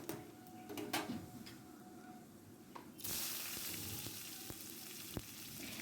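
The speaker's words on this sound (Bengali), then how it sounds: "আর হচ্ছে একটু পেঁয়াজ দিয়ে হালকা করে ভেজে নেব" Onion frying lightly in hot oil with cumin seeds and bay leaf: a faint background hiss swells into a clear, continuous sizzle partway through, with a few light clicks of stirring.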